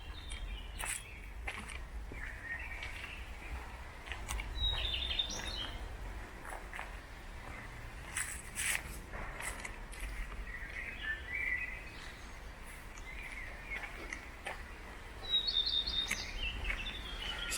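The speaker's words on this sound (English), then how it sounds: "Some good bird content in here," Birds sing and chirp in a war-damaged Jewish cemetery in Berlin, scattered bright calls repeating every few seconds over quiet open-air background, with faint footsteps and rustling nearby.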